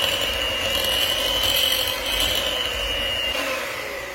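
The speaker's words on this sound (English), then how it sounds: "Then we're going to get our hand mixer back in here again." An electric hand mixer whirs steadily through cake batter in a home kitchen, a close, continuous motor drone with a high whine and a faint scraping texture, no voices over it.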